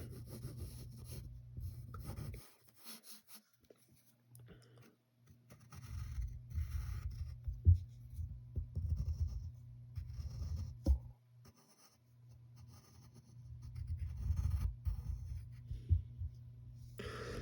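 A pencil drawing on paper in bursts of scratchy strokes with short pauses between them, close and fairly quiet, and no talking.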